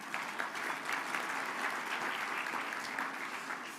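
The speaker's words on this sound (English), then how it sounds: "you can all give yourself a round of applause" Audience at a civic awards event applauding themselves, steady, full clapping at moderate distance that continues without letup.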